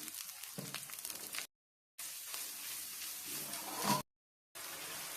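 Ginger paste, cumin paste, turmeric and spice powder fry in a pan for banana-peel chechki, a steady close sizzle broken by two short silent gaps.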